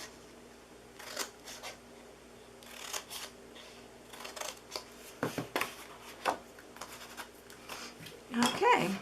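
Scissors cutting the sides of a paper gift box, a series of short snips and paper rustles at irregular intervals, close and quiet against a faint room hum.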